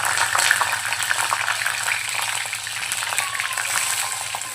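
Mustard seeds and green chillies sizzling in hot oil for a toor dal tadka, giving a loud, dense crackle with sharp seed pops over a low steady hum, with no speech.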